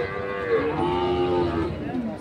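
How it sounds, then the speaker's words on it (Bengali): Sahiwal bull calves lowing at a busy cattle market, several drawn-out moos overlapping steadily for the whole stretch, close and fairly loud over a crowd murmur. "শাহিওয়াল জাতের বাছুর গরুগুলো"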